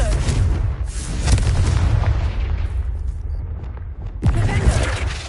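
The Confringo spell's fiery blast booms out in Hogwarts Legacy, a loud explosion with a crackling tail, then a second burst hits near the end amid continuous combat noise.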